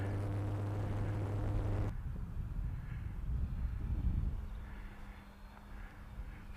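Radio-controlled TAFT Fly Baby model plane flying outdoors, its engine a loud steady drone that drops sharply after about two seconds to a softer buzz with wind noise, continuing faintly for the rest.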